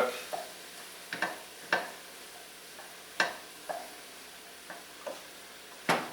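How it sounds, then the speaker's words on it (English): A spoon stirs butter and flour as they melt and cook in a pot, with soft sizzling underneath and irregular scraping strokes against the metal every half second or so, close and fairly quiet. "Just want to get that butter melted and that flour starting to cook."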